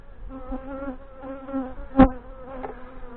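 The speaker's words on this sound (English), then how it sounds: "there's bees right down to the bottom there" Honey bees buzz with a steady droning hum at the bottom of an open hive during a beekeeping inspection, close up, with rising and falling pitch and a brief louder buzz passing near.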